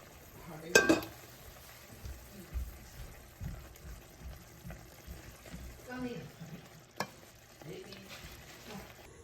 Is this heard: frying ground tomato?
yes